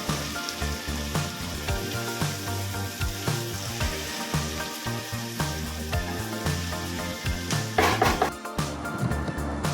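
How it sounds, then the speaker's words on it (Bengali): Thinly sliced onions frying in hot mustard oil in a wok: a steady close sizzle with repeated stirring scrapes and clinks, growing louder and spattering near the end, with no talk. "তেল গরম হওয়ার পরে আমি এতে 2টো পেঁয়াজ ঝিরিঝিরি করে কেটে ভাজতে"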